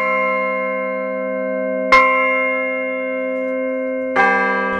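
Newly cast low church bells for the Liverpool Philharmonic ring twice, each deep clear strike followed by a long sustained humming resonance that slowly decays, alone without voices.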